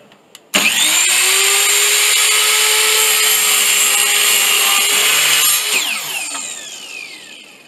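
A miter saw spins up and makes one loud, continuous cut through a 1x2 board at a 45-degree angle, its steady whine holding for about five seconds before winding down.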